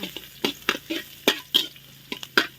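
Garlic frying in oil in a pan while braised pork belly with eggs is being prepared, with intermittent bursts of stirring and scraping over a soft, steady sizzle, close by and moderately loud, no voices.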